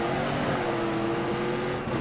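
A car engine held at full throttle in a steady, loud drone with rising harmonic tones, continuous for the whole stretch with no voices over it.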